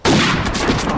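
A loud sniper rifle shot fires in the mobile game Hunting Sniper, a single heavy blast with a dense, roaring report that fills the whole moment.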